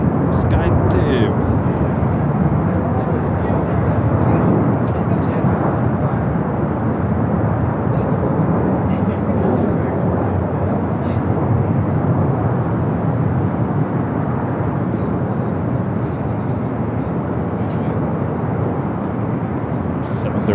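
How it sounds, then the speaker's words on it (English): A Delta Boeing 737-800 airliner at LAX, a continuous loud low engine rumble with a roar that holds steady throughout, with a person talking over it. "It's a 737-800 with Delta."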